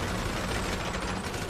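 Dense, continuous gunfire rattles through a bunker shooting range in the video game GTA V Online, with overlapping rapid shots forming a loud, unbroken barrage.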